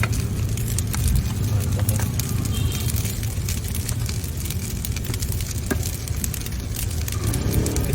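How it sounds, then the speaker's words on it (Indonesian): Macaroni frying again with egg on a hot pan at a Bandung street-food stall, a steady dense sizzle with scraping stir noises throughout, under faint background street noise and occasional nearby voices. "Cuma ini mah bedanya digoreng lagi pakai telur gitu."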